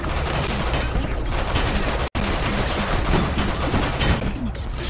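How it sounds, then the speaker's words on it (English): Dense, continuous machine gun fire from the video game Molemen Must Die, loud and chaotic with a sharp brief dropout partway through, no talking. "More machine guns!"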